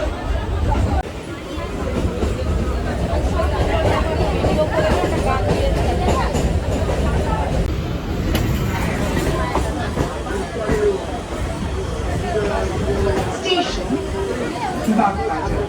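Passenger train interior while running, a steady low rumble and rattle of the carriage with people chatting over it and a few brief louder clatters.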